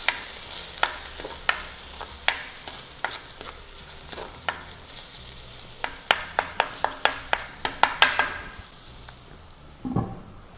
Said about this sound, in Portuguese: E vou refogando esse charque aqui junto.